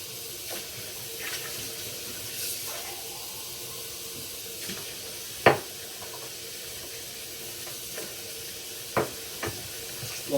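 Water runs from a tap into a container. A steady, soft hiss of flowing water continues throughout, with a few sharp knocks and clunks of handling on top and no talk.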